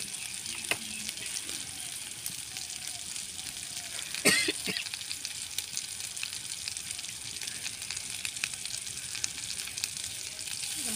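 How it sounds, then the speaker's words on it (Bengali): Spices sauté with a splash of water in a pan over a village cooking fire, giving a faint, steady sizzle and hiss with a few sharp clatters of utensils near the middle. "তো মশলাগুলো একটু জল দিয়ে নেবো কষানোর জন্য"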